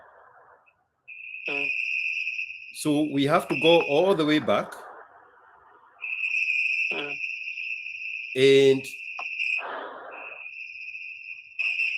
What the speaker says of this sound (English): You cannot throw stones at the crickets for them to be quiet.